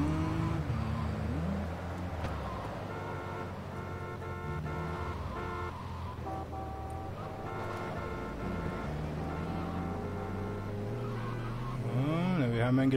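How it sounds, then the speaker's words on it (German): Game engine of an off-road vehicle in GTA III droning steadily with shifting pitch, ending in a louder tire skid and squeal, with a voice talking over it. "Wir haben ein geländegängiges Fahrzeug."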